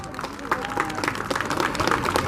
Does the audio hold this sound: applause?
yes